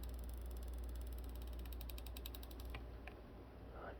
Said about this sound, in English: I hear a strange clicking noise in the meter.